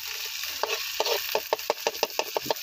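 Onions tipped into hot oil where mustard seeds are spluttering, a village outdoor cooking pot: steady broad sizzle with a run of sharp rhythmic scraping or popping strokes, close and fairly loud, no talk.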